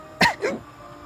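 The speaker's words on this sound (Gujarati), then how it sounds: "અમને ખાંસી આવી ગઈ." Two short, close coughs in quick succession from one person, then quiet room tone.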